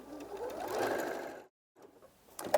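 A sewing machine runs in a steady close burst while stitching a fabric kneeling cushion, stops for a brief silent gap during the backstitch, then restarts with a short buzz.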